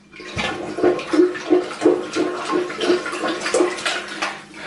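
A plunger works hard in a clogged toilet, producing rhythmic wet sloshing and gurgling pulses about every third of a second, close and steady, with no talk.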